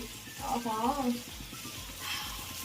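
Mutton coated in masala fries in a pan with a soft, steady sizzle and faint stirring, heard fairly quietly; a voice briefly sounds over it near the start.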